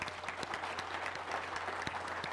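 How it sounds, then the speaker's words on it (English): Audience at an Ambit Energy regional training event applauding, a brief dense burst of many hands clapping at fairly even volume with a few sharper claps standing out. "Let's give them all a round of applause."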